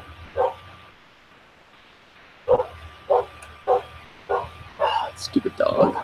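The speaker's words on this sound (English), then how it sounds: "Stupid dog." A dog barks nearby in a series of sharp, separate barks, a few early and then a quick run of them, with muffled human speech and light background noise in between.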